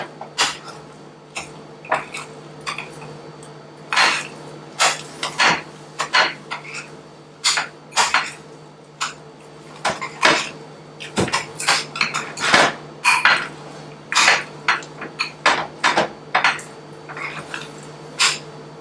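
A spoon scrapes and clinks against a bowl while overnight oatmeal is mixed, giving repeated irregular close taps and scrapes that run steadily throughout with no talking.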